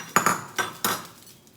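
A spoon stirs rava khichdi with roasted cashews and ghee in a metal pan, making four quick clinks and scrapes close by, then trailing off into quiet.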